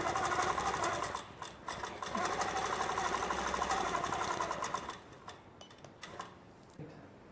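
A sewing machine fitted with a Wonderfoot 360 presser foot stitching a quilt, running in a fast, steady mechanical whir for about five seconds before stopping, followed by scattered clicks and small handling taps.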